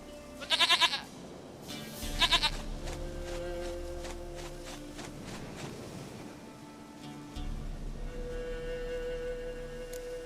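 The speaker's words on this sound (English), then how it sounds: "Goat of mine, dearest, sweetest goat." Goat bleats in The Witcher 3 game, two quick bursts of bleating early on, then steady ambient game sound with a low rumble beneath, no talking.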